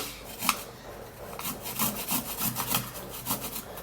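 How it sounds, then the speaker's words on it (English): Peeled garlic cloves being grated by hand, heard as a steady run of close, scratchy rasping strokes about every quarter second, alone with no talking. "after peeling the garlic, we're just going to grate the garlic"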